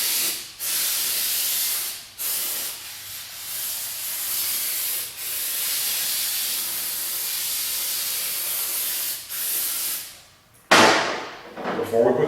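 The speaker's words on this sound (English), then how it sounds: "Now, I'm just going to grab some brake cleaner." Aerosol brake cleaner sprays onto a motorcycle in long, loud, close hissing bursts separated by brief stops, and a clattering handling noise follows near the end.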